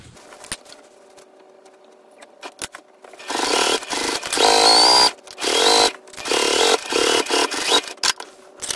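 A sewing machine top stitches the pocket of a laptop bag, running in several loud whirring bursts of rapid stitching separated by short pauses, close and with no talk.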